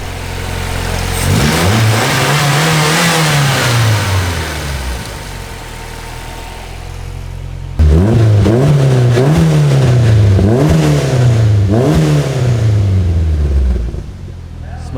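A rear-wheel-drive Honda Civic with a newly installed engine revs hard just after its first start-up, loud and close, its pitch sweeping up and down in repeated surges, with a brief drop between two runs of throttle blips.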